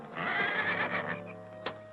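A horse neighs loudly nearby, a long quavering whinny that fades out, followed by a short snort.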